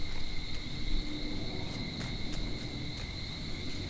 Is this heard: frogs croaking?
yes